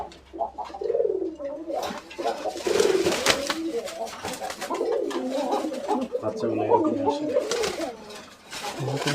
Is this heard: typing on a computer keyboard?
no